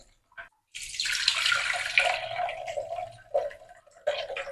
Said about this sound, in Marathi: याला दोन तीन पाण्याने स्वच्छ धुवून घ्यायचं आहे